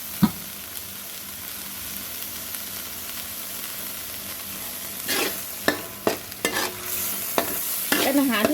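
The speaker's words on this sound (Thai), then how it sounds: "ใส่ลงไปเลยจ้ะ เพื่อเป็นการผัดนะทำให้หมูสุกก่อน" Minced pork stir-frying in a hot pan gives a quiet, steady sizzle. A spatula scrapes and clacks against the pan several times in short, sharp strokes that come more often toward the end.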